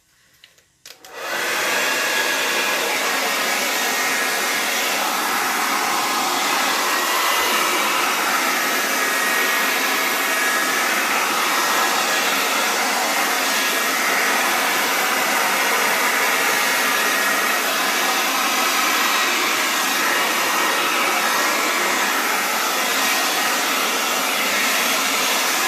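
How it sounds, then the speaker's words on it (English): A hair dryer starts up and blows continuously at steady volume over an acrylic paint pour on MDF, a loud even whooshing hum that runs on without pause. "Used the hairdryer for many a pour."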